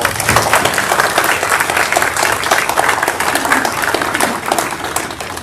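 Audience at a Veterans' Day ceremony applauding with dense, sustained clapping from a large crowd, loud and steady throughout.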